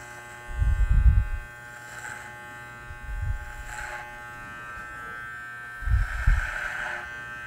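An electric hair clipper fitted with a number 3 guard hums steadily as it cuts hair from the bottom up, with a constant close buzz and a few low thumps from handling.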